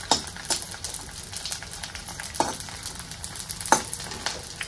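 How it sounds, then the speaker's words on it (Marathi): Edible gum puffs and fries in ghee for a wheat-flour barfi, crackling in a dense continuous sizzle with a few louder stirring scrapes and pops close by. "डिंक छान असा फुलला पाहिजे, आज कच्चा राहू नये"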